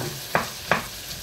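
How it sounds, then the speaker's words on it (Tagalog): Onion and garlic stir-fried together until brown: a steady close sizzle broken by two sharp scraping stirs of the spatula against the pan, then a softer third. "Kailangan dito brown ang sibuyas at bawang. Pinagsama ko na sibuyas bawang."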